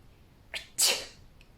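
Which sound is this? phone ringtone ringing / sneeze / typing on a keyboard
sneeze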